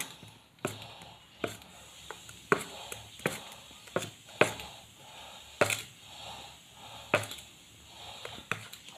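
Salt is stirred into dosa batter by hand, giving a series of irregular sharp clacks and taps of a utensil against the bowl, spaced a second or so apart, with soft wet mixing sounds between them.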